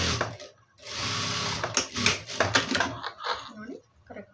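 A sewing machine stitches fabric in close, whirring bursts that start and stop, while someone talks over and between the runs.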